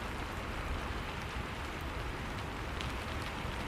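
Steady rain falls on a surface, a continuous even hiss of drops with no voices, filling the whole stretch at a soft, constant level.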